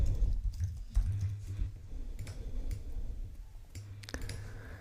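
Typing on a computer keyboard close up, a quick irregular run of clacking keystrokes with a few louder key hits, alone without speech.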